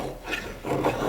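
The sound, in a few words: D2 bushcraft knife carving hardwood feather sticks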